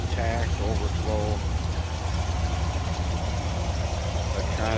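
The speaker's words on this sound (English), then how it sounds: "Nice, smooth running V8, no doubt about that." 1961 Chevrolet Bel Air two-door flat top with a 348 V8 idling smoothly, a steady low rumble that holds even throughout, with someone talking over it near the start.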